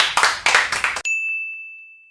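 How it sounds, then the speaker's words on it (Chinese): An audience on a bartending show claps briefly, a lively patter of close hands lasting about a second, then it stops abruptly and a clear bright ding rings out and slowly fades. "那我们掌声通过"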